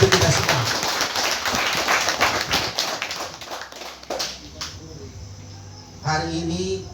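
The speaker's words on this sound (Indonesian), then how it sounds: "Tepuk tangan untuk kita semua." People at a Christmas and New Year gathering of GMNI alumni in Ruteng, Flores clap in a burst of scattered, close handclaps that thin out after a few seconds, with voices talking over and after it.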